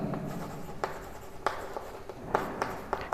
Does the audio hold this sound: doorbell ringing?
no